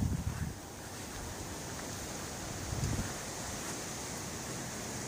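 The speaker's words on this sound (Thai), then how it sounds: "ลมแรงจัด" Strong wind blows outdoors across a garden of potted strawberries and grapevines, a steady blustery rush with heavier buffeting gusts at the start and near the middle, fairly faint and with no talking.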